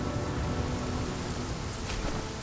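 Steady rain falls in the survival game The Flame in the Flood, a dense even hiss filling the whole stretch at moderate level with no break or talk over it.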